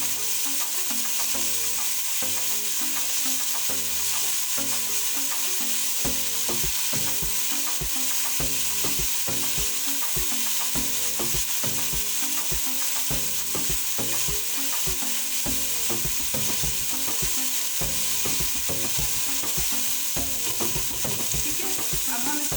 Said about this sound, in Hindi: डाल देंगे इन सब चीज़ों को अच्छे से भून लेंगे।